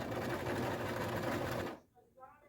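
A sewing machine runs fast and close, stitching elastic into a dress in one continuous buzzing burst that stops abruptly, followed by a short spoken remark.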